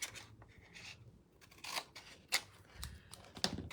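Scissors snipping through paper at a scrapbooking craft table, a few short crisp cuts spaced irregularly, close and fairly quiet with light rustling between them.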